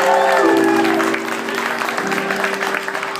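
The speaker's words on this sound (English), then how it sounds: "Give a big round of applause to Brad Marquis, who opened up the show." A crowd applauds steadily, with whoops and music over the clapping, which stays loud throughout.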